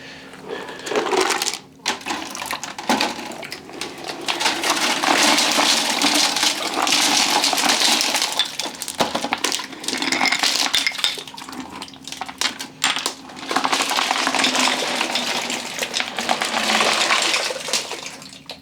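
A large rock tumbler barrel of big specimens is dumped out, its stones clattering and grinding in a loud, continuous rush with a few brief pauses. The load is a little gummy from too little water.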